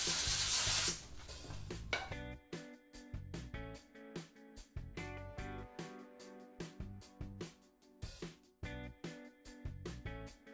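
Dirt bike plastics scrubbed clean with brake cleaner and a rag: a short burst of aerosol spray, then close, repeated rubbing and squeaking strokes in an uneven rhythm.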